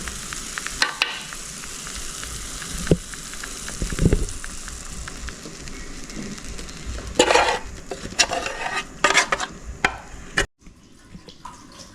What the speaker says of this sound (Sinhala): දැන් ඊළඟට අපි මේකට අපි හදාගත්ත egg mixture එක එකතු කරගමු